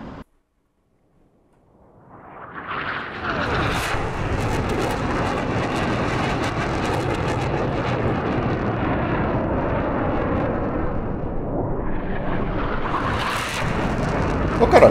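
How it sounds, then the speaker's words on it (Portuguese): A jet aircraft roars past in the DCS flight simulator, swelling from silence into a loud, sustained engine rumble and rising again near the end. "passou outro avião aqui?"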